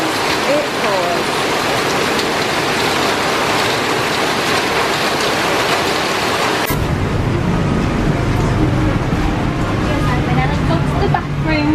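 Heavy rain pours down in Hoi An, Vietnam, as a loud, dense, continuous roar that fills the scene and shifts abruptly in character partway through.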